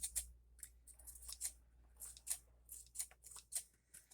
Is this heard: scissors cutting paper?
yes